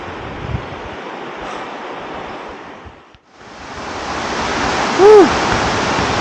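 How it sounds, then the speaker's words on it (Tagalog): Steady, loud rushing water fills the clip, a powerful river current roaring continuously beneath a bridge with wind noise buffeting the microphone. "naririnig mo yung lagaslas ng mga agos dito ng ilog"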